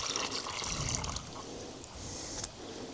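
Water trickles and pours into the engine block and cylinder head of an old Perkins turbo diesel engine, a steady close splashing gurgle that shifts slightly in flow.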